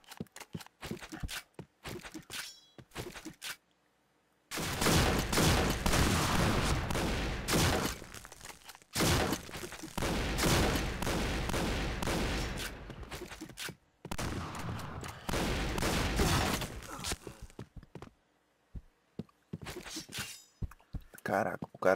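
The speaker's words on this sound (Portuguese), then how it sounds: "o cara tá de 12. Igual uma metralhadora, o bagulho, igual uma metralhadora" A shotgun fires again and again in rapid bursts like a machine gun during a PointBlank online shooter match, loud dense volleys broken by short pauses, with quieter footsteps and a few sharp shots in the gaps.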